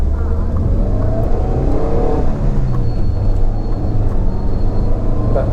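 A 2007 Maruti Suzuki Zen Estilo LXI with a 1.1-litre petrol engine accelerates hard, its steady engine drone loud and close from inside the cabin, with road rumble underneath and no speech.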